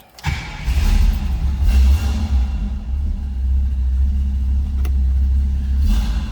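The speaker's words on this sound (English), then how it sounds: "Let's go ahead and fire it up. We'll let you hear it run." A 1968 Pontiac Firebird 400 engine cranks and catches, then settles into a deep, steady rumbling idle with a few slight revs, loud and close.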